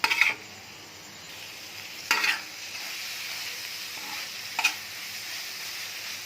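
Minced beef keema fries on a tawa with a soft continuous sizzle, broken by a few short sharp scraping or clinking hits from stirring.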